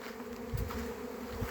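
A honeybee swarm returning to an empty hive makes a dense, continuous buzzing drone of many insects, close and steady for a brief moment.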